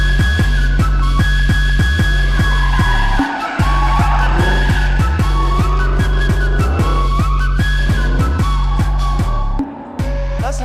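Production cars driving and skidding at the SEMA show, with loud sustained tire squeal and engine noise over a steady heavy thumping beat, continuous and close.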